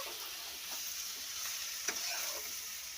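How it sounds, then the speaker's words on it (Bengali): Soybean curry frying and sizzling with spices in a pan, a steady close hiss under occasional stirring scrapes, with no voices. "এবারে একটু মশলা দিয়ে ভালো করে কষিয়ে নিলাম"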